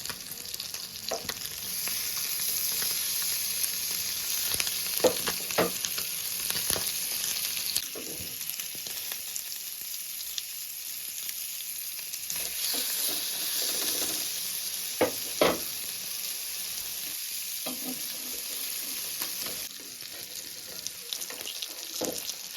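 Chanduva fish pieces sizzle steadily in a pan of hot oil as they are turned, with occasional scraping spatula strokes and soft clinks over the continuous frying hiss, no talking.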